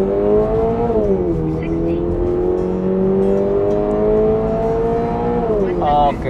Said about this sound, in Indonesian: langsung aja kita gas 0 ke 100 nya, kita lihat dapat berapa ya